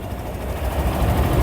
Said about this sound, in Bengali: এই যে ইঞ্জিন সাউন্ডটা দেখেন একদম স্মুথলি সাউন্ড